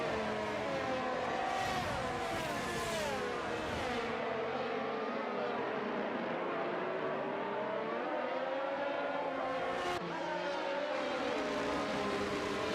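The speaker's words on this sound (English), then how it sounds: "soak up the engine noise. All of the F1 cars just on the track." Formula 1 cars in a video game race at the Hungarian Grand Prix, several high-pitched engine whines rising and falling as they pass, with one car sweeping by near the end.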